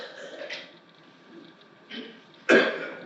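A person coughs in short, raspy bursts during a first-aid demonstration, with a soft cough early, another midway and a louder, sharper one near the end.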